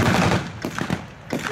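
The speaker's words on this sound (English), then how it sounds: "The machine gunner in that pit is doing his best to keep the Germans back" Machine gun fire rings out at a WWII battle reenactment display. Several loud, close bursts of rapid shots are heard, with short gaps between them and no talking.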